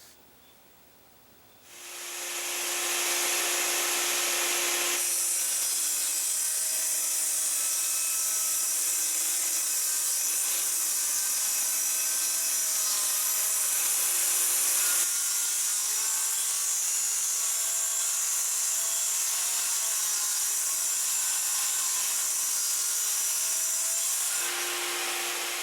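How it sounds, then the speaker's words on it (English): A table saw in a workshop runs loud and steady, its blade whining with a sustained high-pitched hiss as it cuts wood for about 23 seconds, with a brief dip in pitch partway through and a short lull near the end. "Probably the most versatile tool in any shop would be the table saw."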